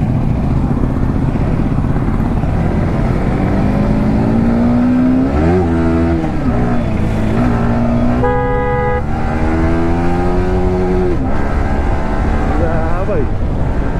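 Yamaha R15M motorcycle at full power, engine note rising and shifting steadily with revving sweeps, close and loud throughout, with voices over it.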